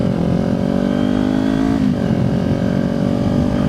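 A motorcycle with a GP shift pattern riding on a street, its engine droning loud and close at steady revs, with a brief dip in pitch midway as the gear changes before settling again.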